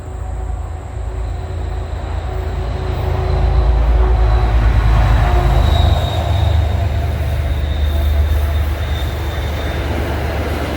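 A train passing, a loud, heavy rumble of rolling wagons with a thin metallic wheel squeal on top, swelling and holding for several seconds, with no talk.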